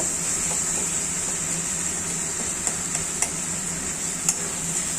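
Spice masala frying in a pan, giving a steady, even sizzling hiss with a few faint clicks of stirring scattered through, alone with no voices.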